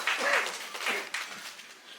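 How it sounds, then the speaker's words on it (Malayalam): An audience breaks into applause to welcome the actor Mohanlal: a dense, steady patter of many hands clapping that swells at the start and gradually thins out over two seconds. "ലാലേട്ടൻ നല്ലൊരു കൈയടി നൽകിക്കൊണ്ട് നമുക്ക് ദാസന്റെ വീട്ടിലേക്ക് സ്വാഗതം ചെയ്യാം"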